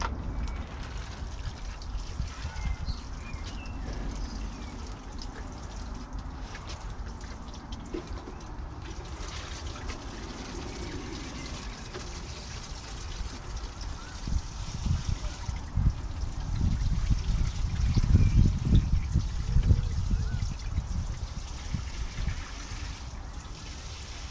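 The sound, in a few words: watering a tomato plant in compost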